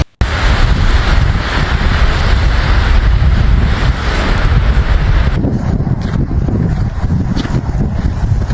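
Gusty wind roars during a heavy snowstorm in Ontario and Quebec, a loud, constant rush that buffets the microphone and eases only slightly toward the end.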